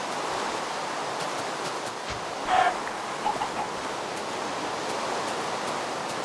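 Steady rain falls in Minecraft, a constant broadband hiss that holds evenly throughout, with a couple of brief louder blips in the middle and no talking.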